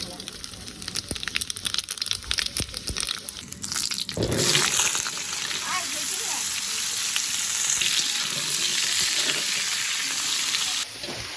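Five-spice tempering (panch phoron) hitting hot oil with a sudden loud burst of sizzling that stays intense and steady, after a stretch of clattering kitchen handling.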